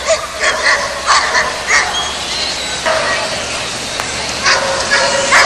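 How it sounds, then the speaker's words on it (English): German Shepherd dogs barking and yipping at a 1981 national dog show, several sharp barks in irregular bursts amid crowd noise and talk. "There's the winner's dog."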